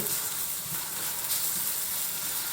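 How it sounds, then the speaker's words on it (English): Onions just starting to fry in a pan, a dense, even hissing sizzle heard up close for a couple of seconds, with no talking over it. "I'm going to get these onions going"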